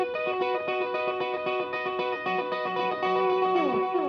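Electric guitar through a delay effect, rapid repeated notes blurring into cascading echoes with a volume-swell trick, playing continuously at moderate level without any talking.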